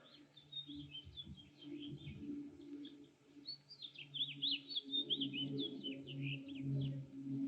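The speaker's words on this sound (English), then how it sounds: "you listen to birds" Small birds chirp and twitter outdoors in quick, high warbling phrases that run continuously, over a low, steady background rumble.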